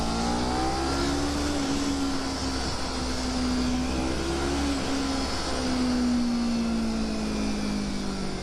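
A Kawasaki Ninja 300 motorcycle engine drones loudly and steadily, its pitch rising and falling as it revs, with a continuous roar and no voices.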